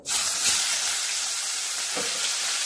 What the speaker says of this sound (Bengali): মাছটা ভেজে, এই মাছটা একটু কড়া ভাজতে হয়।